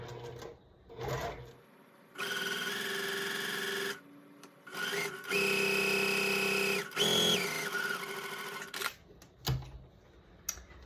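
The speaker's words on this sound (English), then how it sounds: "I am to sew on the line, and I'm not going to change my foot" A sewing machine stitches along a marked line on a quilt block in several close, whirring runs of a few seconds each, separated by brief pauses and small handling clicks.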